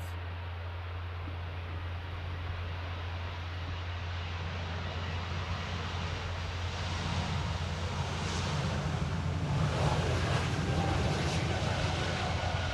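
An Embraer E195-E2 jet airliner on its takeoff roll at Amsterdam Airport, a steady broad roar with a low engine hum that builds slightly louder toward the end, heard from a distance.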